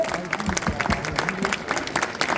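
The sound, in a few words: festival audience applause for guests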